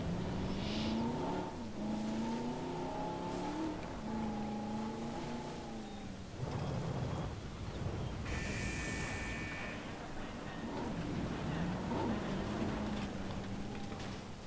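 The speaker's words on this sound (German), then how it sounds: "Fahren wir da selber mit dem Auto hin." A car in the dinosaur park game Jurassic World Evolution, with a steady engine drone that rises and falls in pitch as it accelerates and shifts, alongside faint game effects, with no talk.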